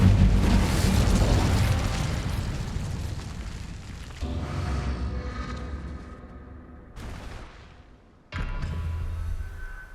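Incendio fire spell in Hogwarts Legacy: a loud roaring blast that sustains for several seconds, followed by further booming bursts and crackling surges with abrupt cuts between them.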